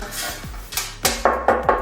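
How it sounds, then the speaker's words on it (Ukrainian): A metal baking dish being handled in a home kitchen, giving about five sharp metallic clanks and taps, the last three louder and ringing, close by with no talk. "Це така металева посудина."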